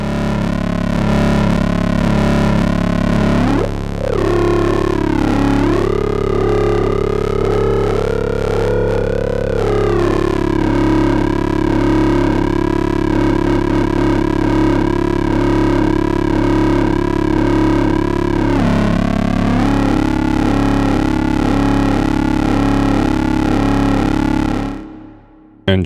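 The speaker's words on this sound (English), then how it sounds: "This is a tip for how to get some sync type sounds without using any of the oscillators." Behringer 2600 synthesizer producing a sync-style tone through feedback with no oscillators, a loud sustained buzzing, harmonically rich drone whose pitch steps and sweeps several times before cutting off, with no talk.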